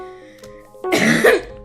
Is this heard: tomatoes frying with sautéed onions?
no